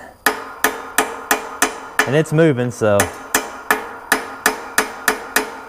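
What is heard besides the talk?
hammer tapping on press pin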